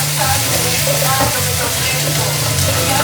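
Pepper steak sizzling and being stirred with a spatula in a hot pan, a loud steady hiss with low clatter throughout.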